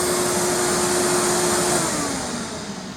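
A Proteam Tailvac DT 100 vacuum runs with its hose attached, a loud steady motor whine and airflow roar throughout, with a tone that sags slightly toward the end.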